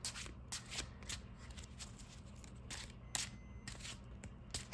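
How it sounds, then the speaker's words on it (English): Playing cards being shuffled close up, with repeated quick riffling bursts and soft slides over a low background hum. "That's a good shuffle."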